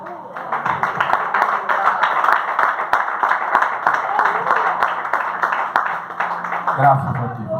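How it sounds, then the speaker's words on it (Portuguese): Church congregation clapping in steady rhythm during an evening service, a sustained crowd patter with sharp individual claps standing out, loud and close, continuing for several seconds. "Vamos aplaudir o Senhor nessa noite?"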